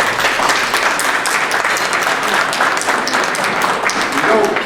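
A room full of people at a council meeting breaks into sustained, dense applause, loud and close, with voices faintly mixed in beneath the clapping.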